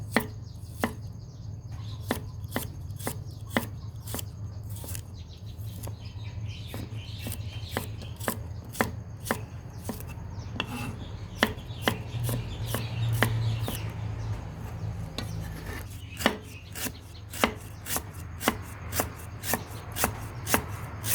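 Rapid knife chopping of lemongrass on a cutting board, steady sharp taps repeating throughout with a low background hum, no talking.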